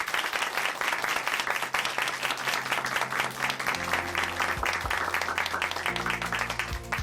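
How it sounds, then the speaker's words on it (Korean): A church congregation at Chuncheon Hanmaeum Church applauds after a testimony, a steady patter of clapping running throughout while soft sustained music tones swell underneath from the midpoint on. "박수 전해드릴까요?"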